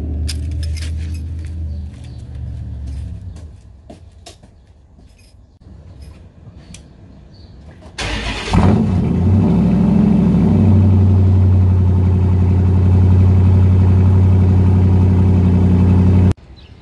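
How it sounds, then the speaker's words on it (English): A Dodge Charger parked at a collision shop does a cold start: quiet handling noises and a jingle of keys, then the starter catches and the engine flares up loud before settling into a steady, deep, rumbling idle. "time for a cold start"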